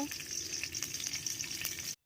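Oil sizzles steadily in a hot kadai (wok) after hilsa fish were fried, readied for a spicy fish curry; a constant close crackle with fine popping, running alone for about two seconds before cutting off abruptly.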